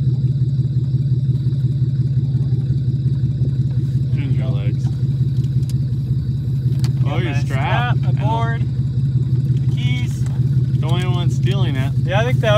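A Chevrolet Malibu with a stuck throttle holds a loud, steady engine drone, overheated and stuck in reverse, while people talk and shout excitedly over it throughout.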